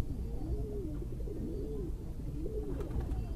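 Pigeons coo in low, rolling phrases, repeated several times against a steady background hum.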